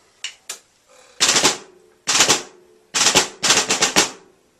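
Bursts of fast snare drum drags, several quick rolled grace notes leading into accented hits, crisp and close, with no talking.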